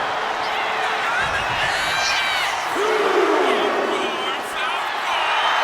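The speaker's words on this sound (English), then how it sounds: "She's rallying the crowd behind her." A wrestling arena crowd in WWE 2K26 cheers and roars steadily throughout, a dense continuous wash of noise with a rising shout partway through.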